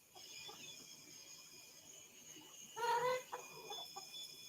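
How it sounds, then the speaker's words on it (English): Chickens at a cabin in Estes cluck in a brief, loud flurry partway through, with a couple of softer clucks after, over a quiet hissing background. "Her chickens are freaking me out."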